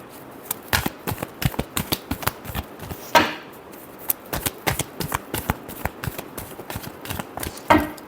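Tarot cards shuffled by hand in a steady run of crisp, close riffling snaps, with a couple of louder bursts where the deck is cut and bridged, no voices.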